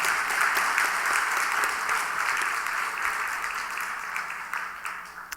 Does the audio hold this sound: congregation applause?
yes